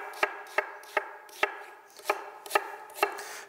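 A knife chops through an onion on a cutting board, about seven distinct crisp thunks at an uneven, unhurried pace, close and clear against a quiet background with no speech.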